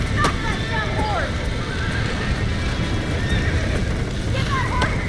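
Horse neighs and whinnies with clip-clopping hooves in Red Dead Redemption on Xbox Series X, the whinnies rising and falling twice over a steady, dense game soundscape while voices shout throughout.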